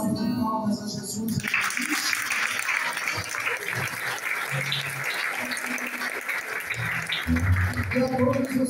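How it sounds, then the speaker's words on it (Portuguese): Broad applause from a congregation at a Catholic evening triduum service, steady and sustained for several seconds, with voices speaking over it at the start and end. "uma salva de palmas a Jesus"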